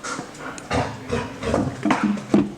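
A dog at a fly-tying bench pants in quick breathy bursts with soft whimpers mixed in, close by and fairly loud, with no talk over it.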